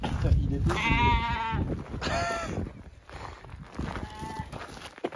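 Sheep on the Lofoten islands bleat a few times, wavering calls close by, mixed with people talking nearby.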